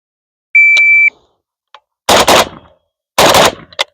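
A PSA AK-47 rifle fires on a range during transition drills, giving two loud, close bursts of rapid shots separated by a short pause. A brief electronic beep comes first, and faint clicks follow.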